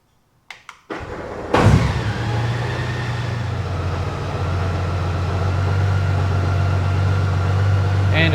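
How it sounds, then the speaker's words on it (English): Motorcycle ignition switched on: a couple of soft clicks, then a sudden electrical hum that holds steady and slowly grows, with a low drone close by and no talk. "Okay, now I'm going to turn on the bike."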